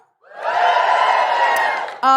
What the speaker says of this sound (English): Give us a cheer if you're from Canberra.